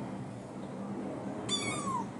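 A one-month-old Bengal kitten gives a single short, high meow that falls in pitch, heard close over a soft indoor background.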